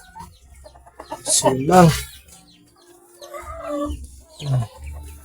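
Rhode Island Red chickens kept in a coop cluck and squawk in two loud bursts with quieter calls between, and a brief spoken word sounds alongside them.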